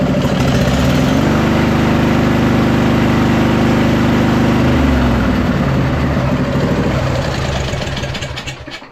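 Twin-cylinder engine on a 2005 Husqvarna YTH2448 riding lawn mower running with its cover off, a loud steady close-up drone with a brief rise in pitch, then settling before tapering at the end.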